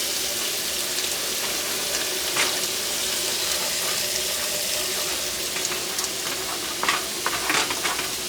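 Pork sizzles and fries in a hot pan with a steady, close crackling hiss that runs unbroken throughout, dotted with a few sharper pops and faint stirring clicks, with no voices.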